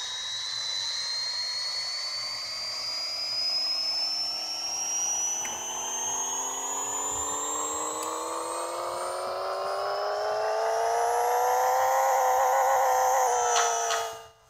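A virtual Subaru wagon making 931 horsepower with all-wheel drive revs on a dyno in Pixel Car Racer, its engine note climbing smoothly and steadily for about thirteen seconds before cutting off abruptly.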